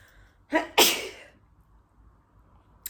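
A single sneeze with a sharp intake of breath just before it, close and fairly loud, then quiet room tone.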